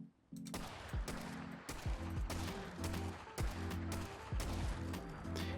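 A modded 10mm pistol in Fallout 4 fires a steady, rapid string of about eight loud, punchy shots at a Deathclaw, each crack followed by a short ring.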